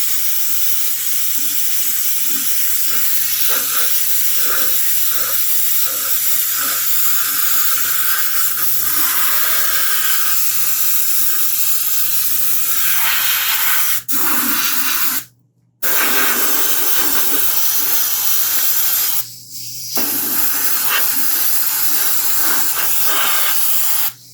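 Fine paint mist being sprayed onto a 1/4 scale Samurai Wolverine figure, a steady close airy hiss running nearly continuously with two brief pauses.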